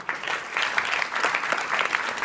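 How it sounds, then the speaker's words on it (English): Audience applause fills a room at a live event, a steady dense clapping from many hands that carries on throughout without a break. "Can we give Julie a big round of applause?"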